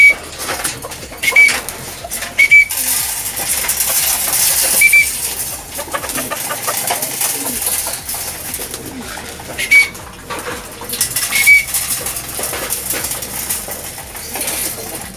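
Caged pigeons coo and flutter during feeding, with repeated soft coos and brief chirps over a steady rustle, fairly close and moderately loud, with no talking.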